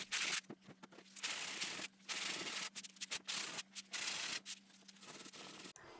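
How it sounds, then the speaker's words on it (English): Wooden drawers being sanded with 220 grit sandpaper, giving a loud, steady scratchy rasp in repeated back-and-forth strokes with brief pauses in between. "then I sanded with 220 grit."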